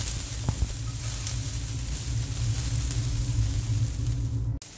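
Small onions sautéing in hot oil in a home kitchen pan, a steady close sizzle and hiss running unbroken, with a brief stir clatter near the end.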